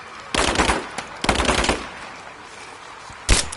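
Machine gun fire in the action game Rise of the Tomb Raider: two loud, rapid bursts close together, then a pause and a short final burst, with low ambient battle noise in between.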